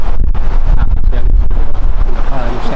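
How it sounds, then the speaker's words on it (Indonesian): Strong mountain wind on Mount Ciremai roars steadily and close against the microphone, a dense low buffeting rumble with gusty surges throughout. "Angin gunung."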